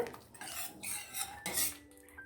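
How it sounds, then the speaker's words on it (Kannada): A spoon mixes and mashes cooked spinach inside a pressure cooker for palak sambar, making a few close metallic scrapes and clinks against the pot. "ಒಂದು 2-3 ಸತಿ ಚೆನ್ನಾಗಿ ಕಲಿಸ್ತಾ ಇದ್ದರೆ ಸ್ಪೂನಲ್ಲಿ ಸೊಪ್ಪೆಲ್ಲ ಮ್ಯಾಶ್ ಆಗೋಗುತ್ತೆ"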